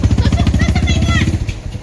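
A motorcycle engine running close by, its steady rapid putter throbbing loudly and evenly before fading slightly near the end, with people talking over it.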